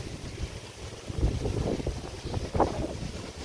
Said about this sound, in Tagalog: Ayan, dagat.